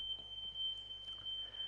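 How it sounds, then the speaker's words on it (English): A smoke alarm emits a constant high-pitched electronic tone, clear and unbroken over a quiet room hum, with no one speaking. "you probably hear the fire alarm at the background there."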